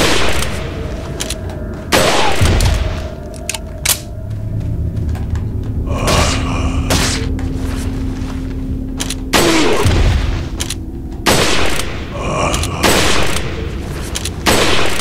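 Bursts of Resident Evil 4 gunfire crack out in quick volleys, loud and close, with short pauses between clusters of shots and a steady hum underneath.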